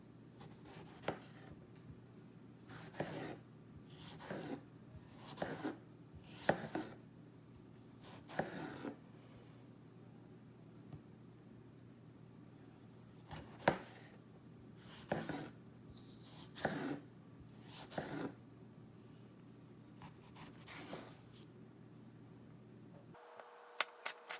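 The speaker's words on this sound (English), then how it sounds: "So this tomato will just cut out the little core. I'll show you guys how it slices." A Japanese chef knife slices a tomato on a cutting board, giving soft, evenly spaced chopping taps that are faint and close, over a low steady background hum.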